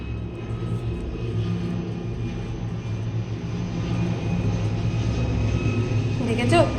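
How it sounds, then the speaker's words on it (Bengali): Several airplanes pass overhead one after another, producing a steady, loud rumbling drone that swells slightly toward the end, with someone talking over it. "দেখেছো প্লেনের আওয়াজ?"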